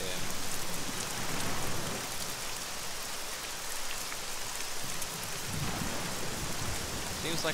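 Steady rain falls and patters on surfaces outdoors, a dense continuous hiss with scattered drops, moderately loud, with no distinct voices.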